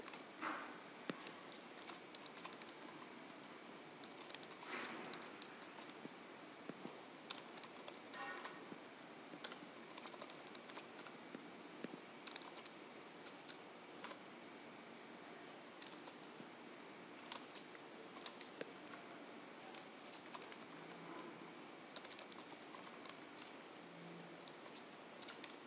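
Quiet, steady typing on a computer keyboard as a command is entered for a deployment script, with irregular clicks of keys close by and no talking.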